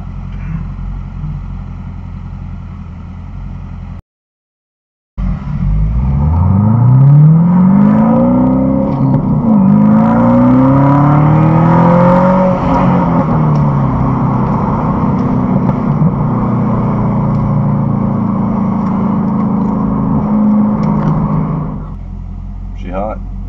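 A supercharged car accelerates hard at a dealership, its engine note sweeping upward through several rising revs, loud and close, while people talk over it.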